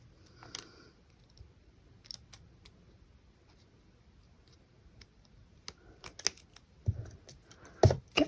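Scissors snipping and trimming a handmade strawberry frog craft, a few sparse crisp cuts and clicks spread out, with a cluster of sharper snips near the end, close and quiet with no talking.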